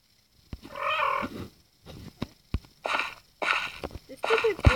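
Cats in a video game meow in short bursts, several separate mewing calls and squeaky cries spaced across a few seconds, mixed with small clicks and brief game noises.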